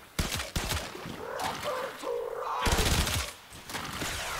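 Rapid fire from the Zhuge Prime weapon in the video game Warframe, with sharp shots in quick bursts and short pauses between them, loud and close.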